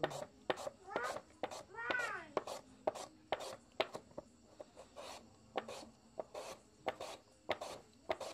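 Potatoes being grated by hand on a grater for homemade wafers, giving a steady series of short scraping rasps in a regular back-and-forth rhythm, close and fairly quiet, with a brief voice in between.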